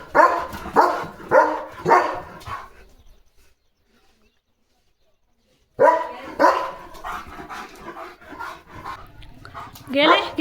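A dog barks in a few sharp bursts, falls silent for a few seconds, then barks again amid voices nearby.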